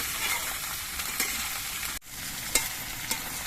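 Taro stolons frying in a pan, a steady close sizzle with a few soft stirring scrapes and a brief dropout midway.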